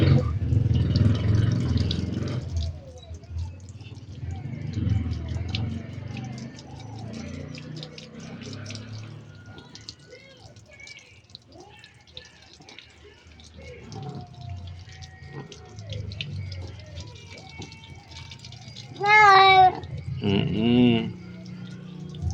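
A cat gets a bath under running water, with a soft tap-and-splash trickle going on beneath near, continuous talking by a person and a brief high cat-like cry toward the end.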